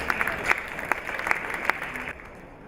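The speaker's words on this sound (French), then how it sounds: "Et on vous applaudit." Crowd applause at an award ceremony, a dense burst of clapping with a few sharp, prominent claps near the front, thinning out and fading toward the end.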